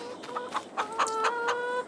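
Chickens on a farm in a video game cluck in quick bursts, about half a dozen short calls in a steady rhythm, close and fairly clear with no talking.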